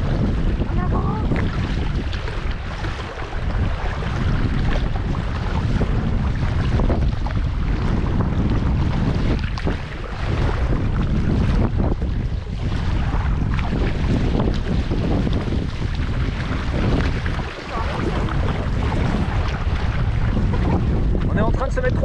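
Strong, steady wind roars and buffets across the microphone from behind a Gumotex inflatable boat, with rushing water beneath and a voice or two faintly mixed in.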